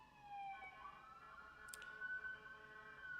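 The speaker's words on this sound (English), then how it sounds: "here comes the ambulance again" An ambulance siren wails past on a New York street, a faint, distant rising and falling tone drifting through steady city background noise, alone without talk.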